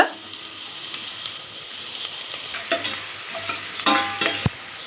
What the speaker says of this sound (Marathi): कांदा पण असा छान गुलाबीसर सोनेरी कलर येऊपर्यंत असं छान परतून घेऊया तेलामध्ये